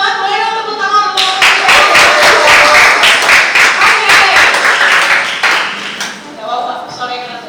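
Young congregation clapping at a NextGen Sunday church service, a dense burst of hand claps for several seconds that fades into a voice talking at the start and end.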